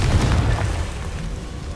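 A Confringo fire spell exploding in Hogwarts Legacy, heard as a loud, continuous booming roar with dense low rumble that barely eases across the short burst.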